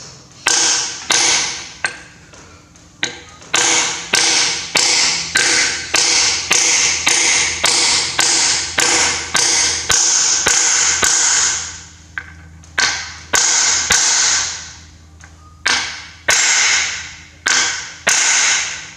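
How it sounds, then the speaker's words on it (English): A steel punch hammers Welsh plugs into the engine block of a Massey Ferguson MF135 six-speed tractor under restoration, giving a long run of sharp, ringing metallic blows in a steady, fairly rapid rhythm, close and loud with brief pauses. "push them in nice and square, and then we just get our punch."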